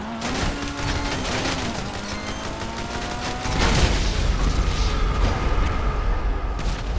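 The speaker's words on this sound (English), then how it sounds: "I dropped a bunch of bombs." Bombs fall and explode in GTA 5 Online, with a rapid series of crackling blasts and mechanical rattling that gives way to a deeper, sustained rumbling boom. No voices are heard.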